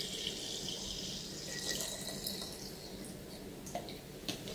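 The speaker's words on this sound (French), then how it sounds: "nous allons mettre notre riz, notre lait du riz" Homemade rice milk is poured in a continuous liquid stream, close and steady, with a few light clinks and drips near the end.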